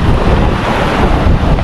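Sea waves and strong wind on a Boracay beach, a dense continuous roar of surf with heavy wind buffeting the microphone, loud and close throughout.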